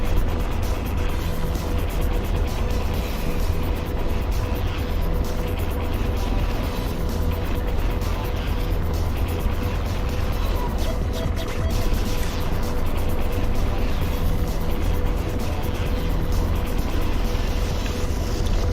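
Video game helicopter powering up and lifting off, a loud steady rotor and turbine roar that stays dense and unbroken throughout, with no talk over it.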